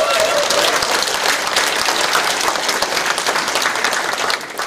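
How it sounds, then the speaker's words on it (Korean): Dense, energetic applause from a community audience at a mayor's town-hall dialogue with citizens in Jeungpo-dong, Icheon, loud and continuous before easing slightly at the close. "김경희 이천 시장님께 힘찬 응원의 박수를 부탁드리겠습니다"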